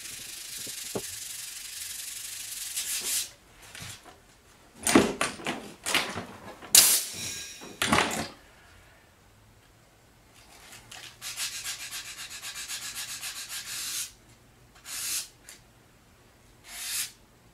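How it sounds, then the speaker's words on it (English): Wood finish sanded by hand with 220 grit sandpaper, close and fairly loud, coming in several separate bouts of rough back-and-forth rubbing with quiet pauses between them. "All nicely sanded."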